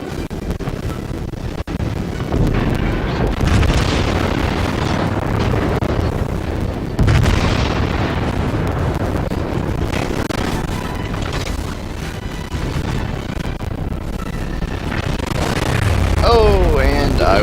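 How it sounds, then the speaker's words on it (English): Torpedo hits and booming explosions on a warship in the World of Warships video game, heavy rumbling blasts layered with game effects, while a player talks over much of it. "Yep, I got torpedoed."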